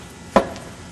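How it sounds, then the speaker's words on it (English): A single short, sharp metallic knock from an aircraft engine as the crankshaft shifts in the crankcase from end play, sounding once and briefly, then fading into quiet background. "That sound you hear is the crankshaft itself moving in the crankcase."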